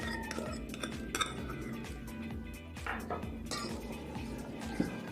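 A spoon stirs semolina with sugar, salt and a beaten egg in a bowl, producing irregular metallic clinks and scrapes against the dish at close range.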